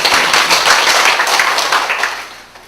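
An audience clapping after a Bible verse recitation in a church class, a loud dense burst of applause that holds steady and then fades out over the last half second.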